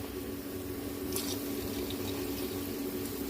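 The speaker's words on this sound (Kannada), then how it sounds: "ಈಗ ಕನ್ಸಿಸ್ಟೆನ್ಸಿ ನೋಡ್ಕೊಂಡು ನೀರು ಹಾಕ್ಕೊಳ್ಳಿ." Water is poured into a simmering coconut-cashew curry, a continuous soft gushing and bubbling that holds steady at moderate volume for a few seconds. No voices.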